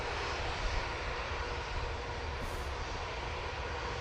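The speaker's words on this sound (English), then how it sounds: "Air France A220 is now lined up" An Air France A220 jet lined up on the runway gives off a constant, dense engine roar, steady and moderately distant, with no voices over it.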